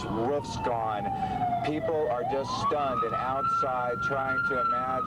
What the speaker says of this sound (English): You can hear the sirens going off around us now.